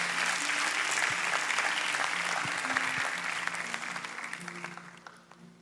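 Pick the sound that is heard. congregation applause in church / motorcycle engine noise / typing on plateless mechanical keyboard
congregation applause in church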